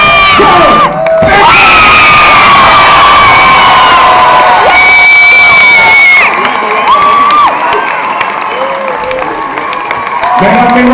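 A loud crowd at a live wrestling match in Beauvais cheers, whoops and applauds continuously, with children shouting and whistles rising above the roar, along with bursts of amplified voices.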